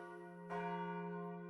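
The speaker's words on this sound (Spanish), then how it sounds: "Las campanas tañían en los funerales" A church bell tolls for funerals, ringing one clear, sustained strike that follows a lingering hum and then slowly decays, heard alone without voices.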